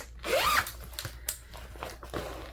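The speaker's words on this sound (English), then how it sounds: "zipper" A zipper on a cross-stitch project bag is pulled open in one quick, close rasp, followed by soft handling and rustling noises.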